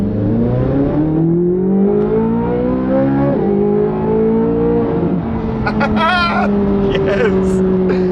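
A Corvette C8 Z06 with a 670 hp engine revs loudly while driving, a steady close-up drone whose pitch climbs through several gear changes, with a brief voice over it near the end.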